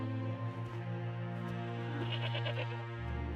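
Sick goats bleating repeatedly, loud and close, overlapping in wavering, sustained cries with no talk.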